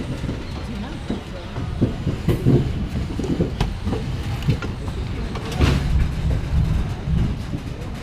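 Vibhuti Express passenger train running, with a continuous rolling rumble and rhythmic clickety-clack of the wheels, a louder surge near the end, and faint voices in the background.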